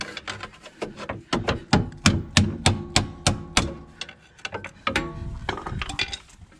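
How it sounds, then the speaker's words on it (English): A Honda sway bar end link is pried apart until its small plastic piece and rubber cup break, making a run of sharp, regular cracking and clicking snaps close by, then irregular creaks and pops. "keep prying until that little plastic piece and the rubber cup break off"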